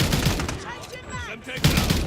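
Gunfire and a flash grenade in Call of Duty MW3, rapid sharp shots at the start and end with a ringing burst between them.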